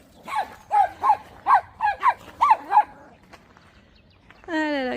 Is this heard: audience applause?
no